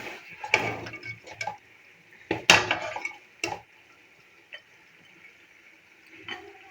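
Metal ladle clinks and scrapes against a wok and serving dish while mutton karahi is dished out, a few scattered sharp clatters with quiet gaps between.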